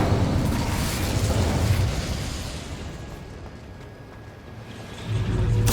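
Incendio fire spell in Hogwarts Legacy, a loud roaring, crackling burst of flame that dies down in the middle before a fresh fiery surge flares up close at the end.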